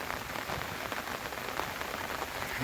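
Torrential rain pours down in a forest in Gir, a dense, steady hiss of drops on leaves and ground that holds unbroken throughout, with no voices.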